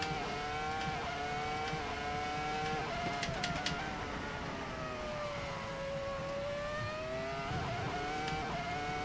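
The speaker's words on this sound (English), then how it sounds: "just listen to the sound of the engine on this car" A steady high-pitched engine whine with gradual rises and dips in pitch runs continuously, a racing car engine at sustained speed in Assetto Corsa.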